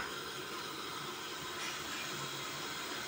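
Onions sautéing in a pan for a spinach-root soup with rice and garlic give a steady, even sizzling hiss that holds without a break, with no talking.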